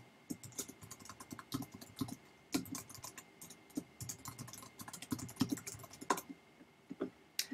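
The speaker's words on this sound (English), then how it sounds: "And now you want to type your title to the book." Keys clatter on a computer keyboard as a book-cover title is entered in a design program, a close, quiet run of irregular clicks and bursts of keystrokes with short pauses throughout.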